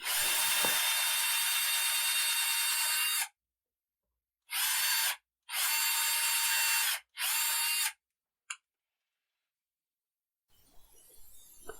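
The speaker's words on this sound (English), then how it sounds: "Here I'm widening the drill holes a little bit for a smoother fit" A power drill widens the tuner holes in the headstock of an electric guitar being built, whirring loudly in one long burst, then several shorter bursts and a final quick blip, ending with faint handling noise.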